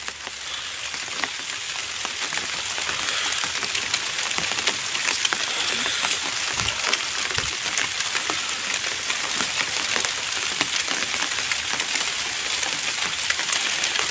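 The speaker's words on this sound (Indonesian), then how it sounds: "Hujannya di sini lumayan ya, tiap hari itu hujan." Steady rain falls on a chili pepper field, making an even, continuous patter and hiss that stays close and fairly loud throughout with no voices.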